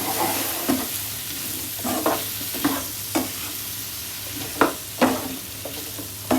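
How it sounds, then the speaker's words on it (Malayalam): Cauliflower florets being turned in a masala coating in a hot pan, a soft sizzle broken by regular scraping strokes of the spoon, close and clear with no voices. "നമുക്ക് ഇനി എല്ലാ ഇതിലേക്കും ഈ കോട്ടിങ് പിടിക്കുന്ന പോലെ നന്നായി ഇളക്കി കൊടുക്കാം"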